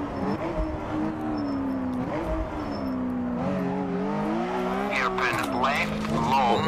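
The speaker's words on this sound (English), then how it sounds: "This car wants to slide." A rally car slides through a stage in RallySimFans with its engine note sweeping up and down through gear changes, and tyres scrub and squeal near the end while a co-driver reads pace notes over it.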